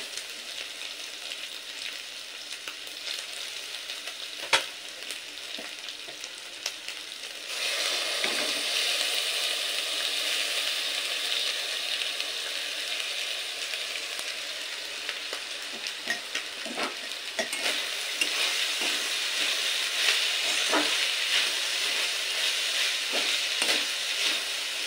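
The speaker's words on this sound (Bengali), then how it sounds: "ভাতটা দেওয়ার পরে আবার নাড়াচাড়া করে কিছুক্ষণ হতে দেব।" Cooked rice for Bengali-style shrimp fried rice sizzles steadily in a hot pan, the frying hiss growing louder partway through, with occasional scrapes and knocks of stirring and no talk.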